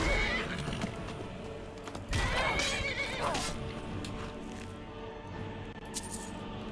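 A horse in a video game gives a loud whinny, and hooves clatter as it runs off, over background game sounds with no talking.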